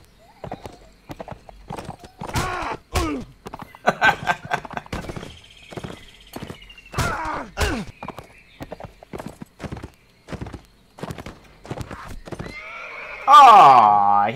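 Horses in the video game Caribbean! charging into battle, with repeated loud whinnies and neighs over rapid clip-clopping hooves, closing on a strong, drawn-out neigh near the end.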